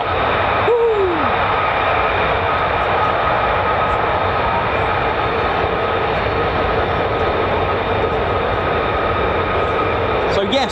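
F-35 fighter jets circling at RAF Lakenheath, a loud, continuous jet roar with a brief rising tone near the start, while people talk over it.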